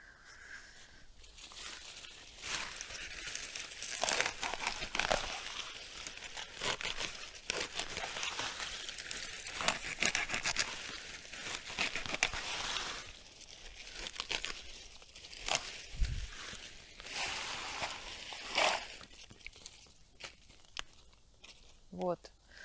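Hosta leaves are cut low to the ground in early October, giving a steady crisp crunching and tearing of plant stems and foliage close up, while someone talks over much of it.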